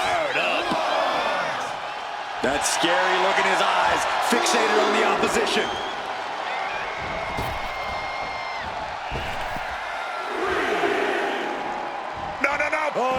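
A WWE 2K26 wrestling arena crowd roars and cheers throughout, with a swelling wave of noise and sharp impacts, while a commentator talks over it.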